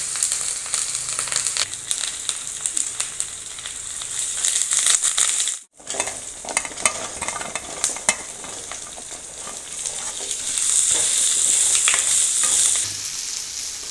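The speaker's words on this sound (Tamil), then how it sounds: "கருவேப்பிலை போட்டுக்கிறேன். இடித்து வச்ச பூண்டு போட்டுக்கிறேன்." Curry leaves and crushed garlic fry in hot oil for a vatha kulambu, giving a steady crackling sizzle with stirring noises and one brief break partway through.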